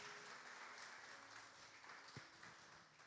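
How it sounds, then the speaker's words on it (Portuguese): A church congregation applauding for Jesus, a faint, dense, steady wash of many hands clapping at a distance, with no clear gaps. "Salve de palmas para Jesus."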